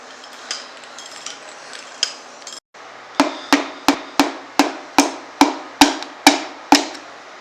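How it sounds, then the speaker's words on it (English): A wrench tightens a connecting rod end cap on a KA24E engine during a rebuild, producing a close series of about ten sharp, evenly spaced metallic clicks after some softer handling noises. "Torquing down the third piston connecting rod end cap."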